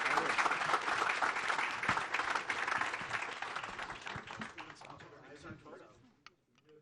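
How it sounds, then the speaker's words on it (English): Audience applause for panelists at the close of a veterans' summit panel on raising capital, a dense burst of clapping that gradually thins and fades out over several seconds. "Applause to our panelists here."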